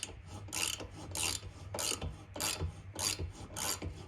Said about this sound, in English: So this is actually creating the threads now for the insert itself.